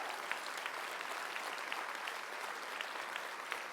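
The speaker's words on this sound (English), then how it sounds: "Give yourselves a round of applause." An audience at a nurses' union biennial meeting applauds, giving dense, steady clapping throughout at moderate distance with no pauses.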